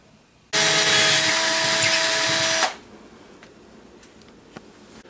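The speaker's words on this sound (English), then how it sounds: "So now I'll use a 3/16 drill bit" A power drill bores into a ceiling with a 3/16 drill bit, a loud, steady high whine lasting about two seconds before stopping abruptly, followed by faint ticks and handling noise.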